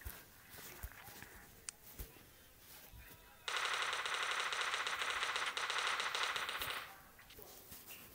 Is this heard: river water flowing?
no